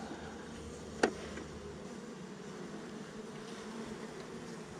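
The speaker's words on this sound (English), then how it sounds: "good concentration of bees over here" Honey bees buzz in a steady, soft drone as a hive is opened for inspection, with one sharp click near the start.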